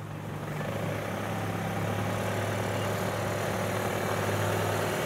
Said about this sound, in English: Driver is being very gentle with the gas pedal right now. And as you can see, vehicle easily gets on top of our hill.